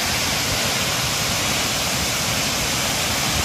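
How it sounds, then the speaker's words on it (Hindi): Waterfall at a hill station near Kampot, a loud, steady broadband roar of falling water that fills the whole stretch without a break. "बकौर हिल स्टेशन के ऊपर जो वाटरफॉल है"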